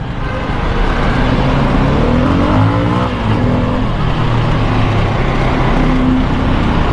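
A 2021 Bajaj Pulsar F250 motorcycle pulls hard through a city ride, its engine note climbing under steady, loud wind-buffeted rumble with no talking.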